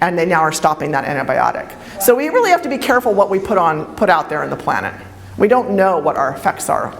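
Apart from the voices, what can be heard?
No everyday noises stand out.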